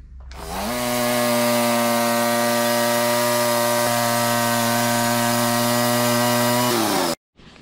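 A Woodland Mills HM130 MAX band sawmill cuts a board from a Douglas fir log, giving a loud, steady, whining buzz that holds for about six seconds before stopping abruptly.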